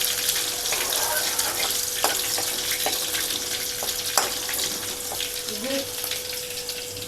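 Onion and garlic frying in a pan, a continuous crackling sizzle with scattered pops and occasional clinks of a stirring spoon, a steady faint tone running underneath.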